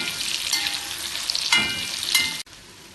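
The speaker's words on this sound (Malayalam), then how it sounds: "ചൂടായ എണ്ണയിലേക്ക് മുറിച്ച് വെച്ച മാങ്ങയിട്ട് വറുത്തെടുക്കാം" Cut mango pieces sizzle and crackle steadily in hot sesame oil in a pan, a close, continuous frying hiss with no talk.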